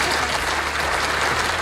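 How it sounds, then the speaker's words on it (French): Audience applause at a regional business awards ceremony in Franche-Comté, dense, steady clapping from a sizable crowd filling the room at close range, sustained without a break. "je vous demanderai tous de les applaudir"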